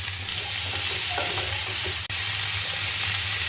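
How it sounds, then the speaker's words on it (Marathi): Sliced onions fry in hot sweet oil for a spicy Maharashtrian curry, a continuous loud sizzle close by with faint stirring scrapes and one sharp click partway through. "गोडे तेल गरम झालेलं आहे आपण त्यामध्ये आपण जो भाग काप केलेले आहेत कांद्याचे ते सर्व घालणार आहोत आणि ह्याला चांगलं भाजणार आहोत"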